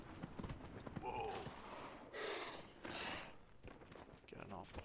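Horse hooves clip-clop on the ground in the Dragon Age Inquisition video game, a steady walking rhythm running under game noise and bursts of other sound.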